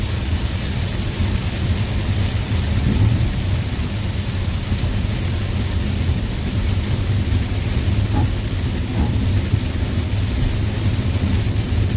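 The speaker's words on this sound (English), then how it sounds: "the rain just kind of slowed up here and more is moving in right now over this area" Steady rain falls during a thunderstorm in southwestern Pennsylvania, a constant broadband wash with faint low rumbling beneath, no voices present.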